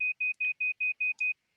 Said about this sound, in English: You guys hear that beep, I hope.